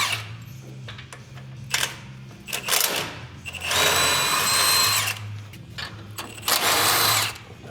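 Power tool, likely an impact driver, removing lower control arm bolts on a Toyota Tacoma: several loud whirring and rattling bursts up close, with short pauses in between.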